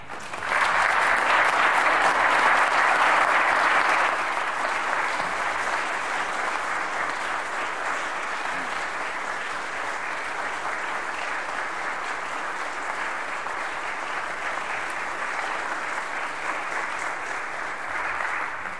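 An audience bursts into sustained applause to welcome Sandra Ranck at a hometown hero honoring event, loud and dense at first, then settling into a steady, even clapping that carries on for a long stretch without talk.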